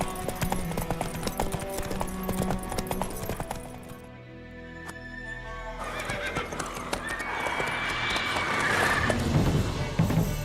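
Geralt's horse Roach in The Witcher 3 video game, steady clip-clop hooves mixed with a loud neigh and snorting, close by, over a layer of in-game background sound.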